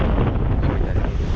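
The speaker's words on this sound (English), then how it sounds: "with this strong wind" A strong mistral wind blows outdoors in nature, a loud, steady roar buffeting the microphone throughout, with no voices.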